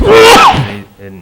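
A single loud sneeze bursts out during a municipal management meeting, followed by brief talk from people in the room.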